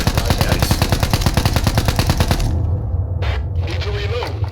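Sustained automatic rifle fire in Thunder Tier One emptying a full magazine at a cache, rapid evenly spaced loud shots for about two and a half seconds, then stopping, leaving low rumbling ambience and faint background sounds.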